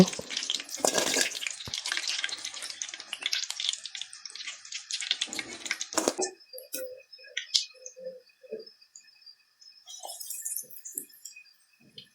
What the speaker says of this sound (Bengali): পেঁয়াজগুলোও আমি ভেজে নিচ্ছি তারপর আলু চপগুলোও আর কি ভেজে নেব